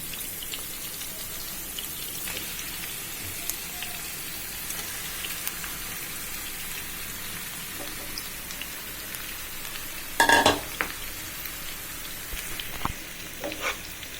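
Masala-coated fish hits a pan of fried onion, garlic and green chilli, giving a steady, close, rain-like sizzle with a few sharp clinks of a utensil partway through.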